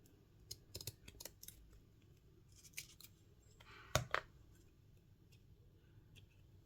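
Scissors snip the excess off an altered paper clothing tag in a few quiet, separate cuts, followed by a sharper crisp cut, close and faint in a quiet room.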